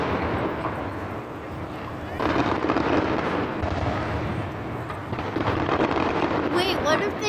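Fourth of July fireworks boom and rumble in rolling waves, with louder bursts partway through, while people talk over the noise.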